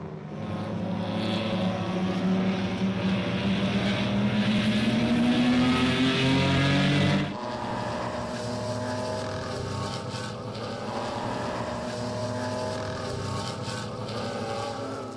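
Race cars in a BMW Club circuit race, Class D, E and F, roar past loudly with rising engine pitch, then a second engine note takes over and drones on at steady volume with no talk.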